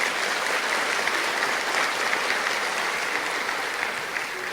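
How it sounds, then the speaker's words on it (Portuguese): An audience at a prayer meeting claps in sustained, dense applause that holds at full strength throughout and eases slightly at the very end, with no voices on top. "Deus e Maria merecem todo nosso aplauso"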